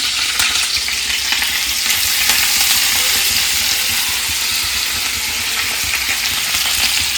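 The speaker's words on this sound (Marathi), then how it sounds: "तर चला आता हे व्यवस्थित परतून घेऊ।" Garlic paste with curry leaves sautés in a pan, giving a loud, constant sizzle with light stirring scrapes throughout, close by and with no speech.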